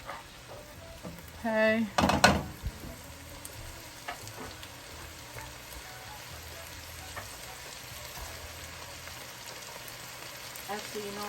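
Cabbage fries in a pot, a soft steady sizzle running throughout, with a burst of louder stirring clatter near the start and a brief spoken word.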